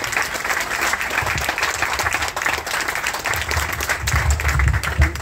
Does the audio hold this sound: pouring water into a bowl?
no